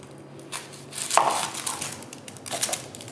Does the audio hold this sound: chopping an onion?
yes